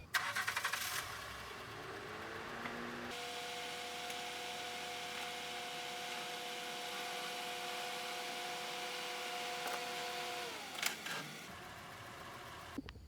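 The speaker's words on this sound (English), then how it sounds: "Let's go ahead and roll her up onto the ramps." A 2009 Honda Accord with a 3.5 V6 engine runs close by as it creeps up onto ramps: a steady idle hum holds throughout and swells briefly near the end. No one speaks.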